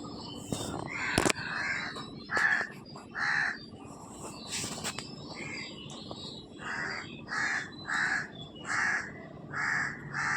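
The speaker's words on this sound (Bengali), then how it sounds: "দেখো পাখির আওয়াজ, কা কা করতেছে" A crow caws in a series of about nine harsh calls. The calls come at a fairly regular pace outdoors at moderate distance, over faint background ambience.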